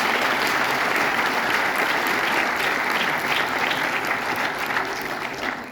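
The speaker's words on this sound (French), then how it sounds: "je voudrais que vous applaudissiez ceux qui n'ont pas pu être parmi nous ce soir" Steady, dense applause from a cinema audience at a French film screening, loud and sustained throughout with no pauses and no voices standing out.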